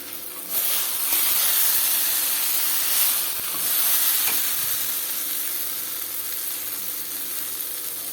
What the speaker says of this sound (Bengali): মশলাগুলি কষানো হয়ে গেল এখন মাছ দিয়ে দেব মাছগুলোকে দিয়ে দিলাম